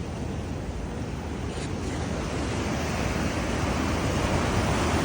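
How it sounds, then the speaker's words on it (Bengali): Ocean surf pounds the shore at Colombo, Sri Lanka, a dense unbroken roar that grows slightly louder toward the end, with wind rumbling across the microphone and no speech. "সমুদ্রের গর্জন।"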